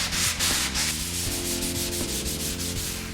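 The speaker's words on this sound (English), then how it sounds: "Now, I just got done with my 250 grit sandpaper, my next gradient." Car headlight lens being sanded by hand with 250 grit sandpaper, a close, continuous rough rubbing with quick back-and-forth strokes and no voices.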